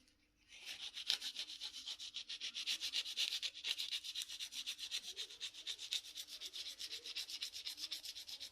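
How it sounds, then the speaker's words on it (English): A compressed charcoal pencil tip is ground against an abrasive surface in a steady rhythmic back-and-forth rasp, close and fairly quiet, with no one speaking. "the compressed charcoal, and then I'll grind it here"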